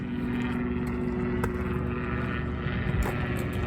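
A small airplane at a fly-in event gives off a steady, loud droning hum with a constant low tone throughout, with no voices.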